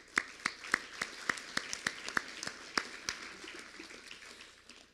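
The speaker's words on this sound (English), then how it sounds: "So a round of applause to all of you," Applause at a 2018 general counsel awards ceremony: sharp claps, a dozen or so loud ones standing out, over a thin steady patter that fades toward the end.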